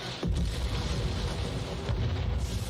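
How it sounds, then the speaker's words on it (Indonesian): A film explosion that flips a car over: a sharp blast onset followed by a sustained, loud rumbling roar that fills the scene without any voices. "karena ledakan tadi, mobil mereka ini jadinya keguling"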